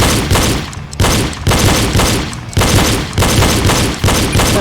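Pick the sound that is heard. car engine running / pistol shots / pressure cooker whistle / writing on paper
pistol shots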